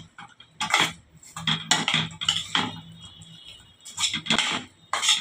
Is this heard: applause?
no